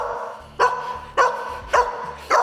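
A dog barks four times in a steady, evenly spaced rhythm during obedience training, each bark sharp and close, with quiet gaps between them.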